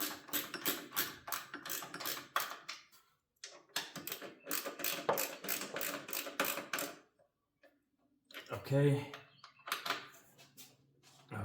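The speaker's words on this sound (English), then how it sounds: "So now all I'm gonna do is get all this stuff tightened up." Hand tools clicking and ratcheting as bolts are tightened on the upper torque rod motor mount of a 2016+ Volvo XC90 or 2021+ XC60, quiet rapid pawl ticks in bursts with pauses, one brief heavier metallic knock near the end.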